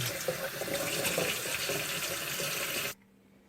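Rice being rinsed under water in a bowl or pot, a steady, fairly faint rush of running water for about three seconds that cuts off abruptly, leaving near silence.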